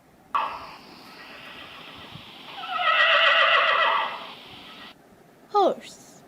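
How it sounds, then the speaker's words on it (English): A horse neighs in a long, loud whinny that rises and trembles before fading, followed by a short snort-like call, with a brief spoken word nearby. "horse"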